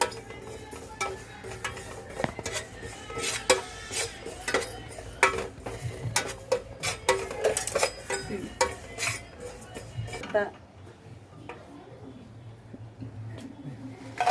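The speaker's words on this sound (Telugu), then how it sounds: "ముందు నువ్వులు వేయించుకోవాలి" Sesame seeds roasting in a pan on a stove, stirred with a utensil that gives repeated light clinks and scrapes against the metal, with someone talking over it before the stirring fades to a quiet hiss.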